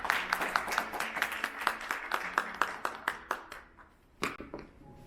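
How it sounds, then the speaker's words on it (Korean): A small lecture audience claps to open a talk on conversational AI and data privacy, brisk scattered claps for about three seconds that thin out into a few final isolated claps. "자, 큰 박수로 강연 시작하겠습니다."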